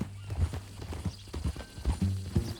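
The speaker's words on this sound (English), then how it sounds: "That a new horse?" Horse hooves clip-clop at a steady walking rhythm in the Red Dead Redemption 2 video game, close and fairly loud, with a low snort or whinny near the end.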